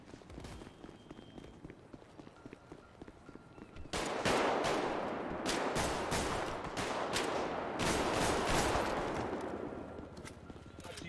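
Gunfire in a GTA roleplay game erupts suddenly after a quieter stretch into a loud, sustained burst of rapid shots, then tapers near the end, with faint talk beneath.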